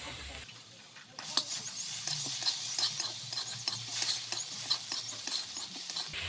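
Black cumin seeds and garlic paste hit hot oil left from frying fish, a quiet start giving way to a steady close sizzle with scattered crackles and scraping stirs throughout.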